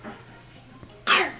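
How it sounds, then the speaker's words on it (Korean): A baby almost one year old gives a single short cough at the end of a brief, otherwise quiet indoor moment, close and clear. "왜 기침해?"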